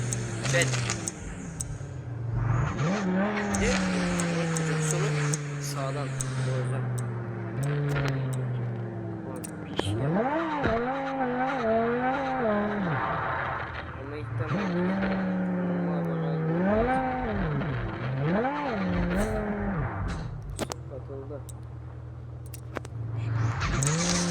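Cars racing in a video game, engines revving up and down in rising and falling sweeps with occasional tire squeals, while a person talks over them throughout.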